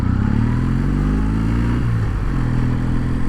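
A Kawasaki W800 motorcycle being ridden, its engine a steady, loud, close rumble that shifts pitch slightly as the bike pulls away, with no talk.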